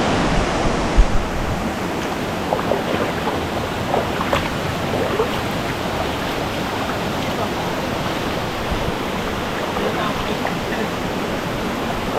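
Clear water of Stewart Mountain River in St Mary, Jamaica rushes and splashes in a steady, loud, close broadband flow, with faint voices now and then underneath.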